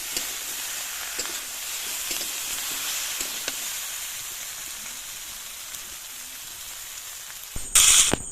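Cut okra pieces sizzle steadily in oil in a wok during village-style Bengali home cooking, with faint scraping stirs throughout and a brief louder burst of spitting hiss near the end.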